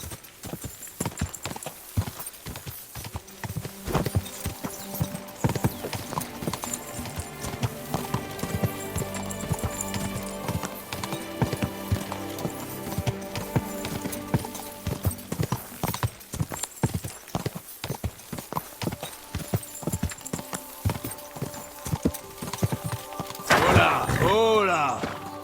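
A horse gallops in Kingdom Come: Deliverance II, its hoofbeats clip-clopping in a fast steady rhythm across the whole stretch, with a whinny and a rider's short calls near the end.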